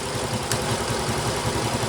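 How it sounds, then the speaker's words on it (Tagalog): A motorcycle engine idles close by in a repair setting, a steady low pulsing rumble with an even rhythmic beat and a single faint click partway through. "Pandarin natin yung motor."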